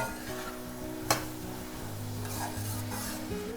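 Onions stirred and fried in oil until brown for an Indian masala base: a steady sizzle with scraping stirring strokes and one sharp clank of the utensil early on, with background music underneath.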